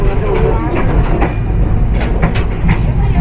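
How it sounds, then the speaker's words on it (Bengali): Intercity SilkCity Express train rolling into platform 3 at Joydebpur Junction, heard from inside as a loud continuous low rumble with faint rail clatter, while someone talks over it. "জয়দেবপুর জাংশনের 3 নম্বর প্ল্যাটফর্মে প্রেস করা হলো আন্তনগর সিল্ক সিটি এক্সপ্রেস ট্রেনকে"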